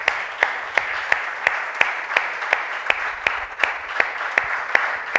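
A church congregation claps in a strong, regular rhythm during a sermon, loud and even beats repeating steadily throughout.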